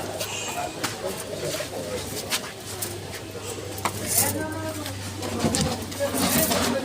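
Pigeons coo repeatedly at a busy pigeon market in Saruliya, Bangladesh, amid clinking and background chatter as people talk nearby.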